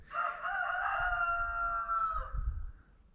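A single rooster crows close by on a farm raising bison in freezing weather, one long harmonic call lasting a couple of seconds over low wind rumble, with no talking.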